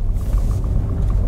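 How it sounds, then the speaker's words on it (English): A cheap used Mini Clubman's engine runs with a low, steady rumble heard from inside the car, droning evenly at a constant pace with no talk over it. "The engine does actually sound quite sweet"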